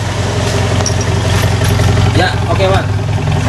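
Toyota Kijang fitted with a racing resonator exhaust, idling with a deep, steady rumble and a few light throttle blips, close by, with brief talk over it.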